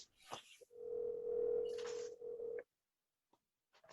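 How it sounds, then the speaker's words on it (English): A steady telephone dial tone over a speakerphone during a meeting, a single sustained hum lasting a couple of seconds, with a few faint clicks and rustles around it before it cuts off. "I'm going to call him and put my phone on speaker"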